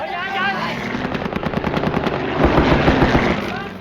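Rapid machine gun bursts crackle in dense rattling volleys from aircraft making strafing runs during the Vietnam War siege of Lang Vei, loud and continuous under a low rumbling backdrop.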